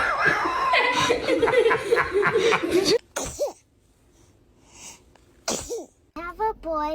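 A baby sneezes sharply amid a stretch of giggling and lively chatter, followed by quieter moments and a few short high-pitched voice sounds and squeals.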